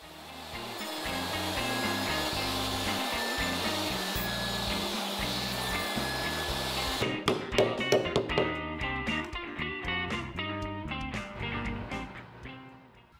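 Power tool cutting wooden pieces for a towel holder in a workshop: a steady whirring hiss for about seven seconds, then a run of sharp, irregular cutting bursts and knocks close to the microphone, with no talk.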